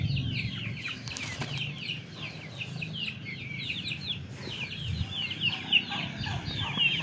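Chickens clucking beneath a chicken coop in Tarlac, Philippines, a dense run of close, busy clucks and chatter that continues steadily throughout, over a low rustling background.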